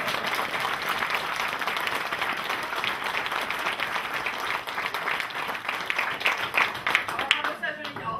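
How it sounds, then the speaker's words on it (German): Sustained crowd applause in a hall at a German Ash Wednesday political rally, dense clapping swelling slightly louder toward the end, with a voice faintly heard beneath it. "Das ist auf jeden Fall auch ein Applaus wert."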